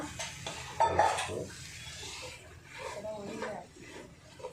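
A utensil scrapes and clatters against a pan while chicken is stirred, with capsicum about to be added for a chicken varattu; soft, irregular metallic scraping with a faint sizzle, under a quiet voice speaking.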